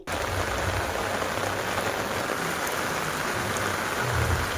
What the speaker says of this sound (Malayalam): തിരുവള്ളൂർ ചെങ്കൽപ്പേട്ട് ജില്ലകളിൽ വ്യാപകമായി കനത്ത മഴ പെയ്യുന്നുണ്ട്